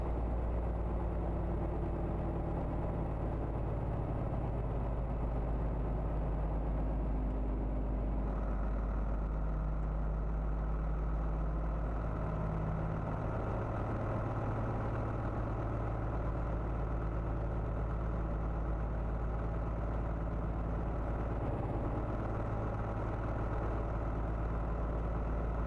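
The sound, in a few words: old, worn car engine idling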